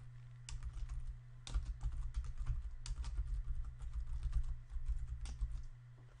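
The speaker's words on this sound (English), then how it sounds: "Now I will enter a secure passphrase." A passphrase is typed on a computer keyboard in a rapid run of close key clicks with brief pauses, over a steady low electrical hum.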